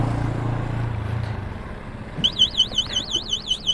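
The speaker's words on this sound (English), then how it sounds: "alarm will start ringing" An electric scooter's anti-theft alarm goes off after a low motor hum fades, sounding as a loud, rapidly warbling electronic siren that pulses in a quick, regular rhythm close by.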